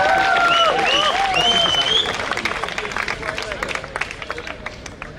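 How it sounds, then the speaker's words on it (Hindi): An audience at a Delhi poetry stage event applauds loudly to welcome poet Padmini Sharma, a dense wash of clapping mixed with crowd noise and a few tonal whoops that thins out and fades over five seconds. "आपने मेरे स्वागत में जो घनघोर तालियां बजाई हैं"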